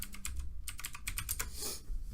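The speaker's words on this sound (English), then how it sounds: "Sorry about my keyboard." Rapid computer keyboard typing, a steady run of close clicky keystrokes, fairly quiet with no talking.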